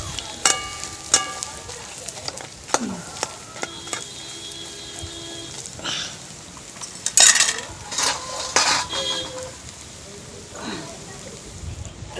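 Pakoras frying in oil in a hot kadai, sharp metal clinks and scrapes of utensils against the pan over a soft background sizzle, with a person talking intermittently.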